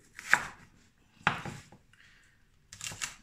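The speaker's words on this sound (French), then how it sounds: "Ça, le céleri, vous allez le couper en petits cubes." Celery being chopped into small cubes on a board gives three separate bursts of quick knife strikes with short pauses between them.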